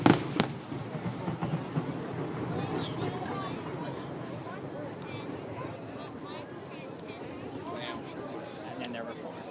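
A fireworks display heard outdoors from a distance, with a sharp pop at the start, then scattered crackles and bursts over a steady background of crowd murmur and chatter.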